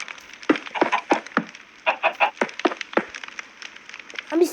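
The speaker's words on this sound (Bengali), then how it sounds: "কয়টা মুরগি হয়েছে দেখি তো।" Chickens cluck in the Island Craft video game, a rapid run of close, choppy clucks and squawks repeating over a few seconds with no speech over them.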